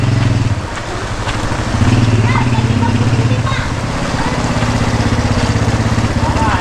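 A motorcycle engine idles close by with a steady low throb that continues throughout, while people talk over it.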